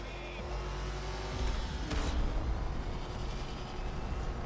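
Batmobile engine from the Batman Arkham Knight video game, a continuous low engine rumble with a brief swell like a surge or pass, moderately loud and alone.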